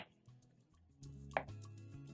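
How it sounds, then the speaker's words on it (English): Knife cutting potatoes on a board, a few soft, irregular chopping taps with one sharper knock, quiet and close with no talking. "Try cutting the potatoes into the same size so that they can cook at the same time."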